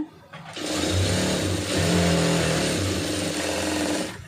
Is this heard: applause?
no